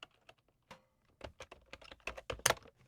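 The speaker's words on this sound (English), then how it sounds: "type in Cheryl's name" A computer keyboard is typed on in short bursts of crisp, close key clicks with brief pauses, alone and fairly quiet.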